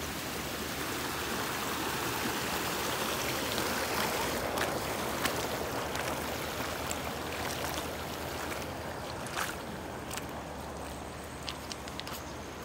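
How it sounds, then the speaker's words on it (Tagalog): River in the Philippine countryside flowing steadily: continuous broadband rushing water, moderately loud and unbroken throughout, with occasional faint clicks and knocks and no talk. "Nandito po kami sa ilog."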